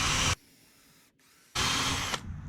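A cordless drill drives screws into a 2x4 workbench on a dying battery, with two loud, steady bursts of whirring separated by about a second of near silence.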